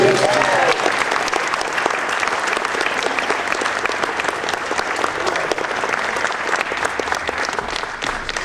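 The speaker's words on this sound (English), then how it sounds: "How about a big round of applause for Kimberly?" Sustained, enthusiastic applause from a theater concert audience for a youth opera singer, dense clapping continuing steadily throughout with a few voices mixed in.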